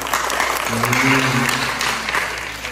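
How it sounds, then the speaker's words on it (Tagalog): Applause for local police at a birthday feeding program, a dense crowd clapping steadily throughout with a voice briefly speaking over it in the middle. "Isang palakpak naman sa mga pulis natin"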